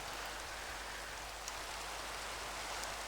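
Minecraft rain weather: a steady, even hiss of falling rain, moderately quiet and uninterrupted, heard alone without any talk.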